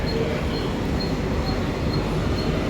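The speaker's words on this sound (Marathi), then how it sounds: "हे आहे अंधेरी ए सी लोकल" A Mumbai AC local train at Andheri station gives a steady, continuous rumble with faint high squeals, loud and unbroken throughout, with no talk.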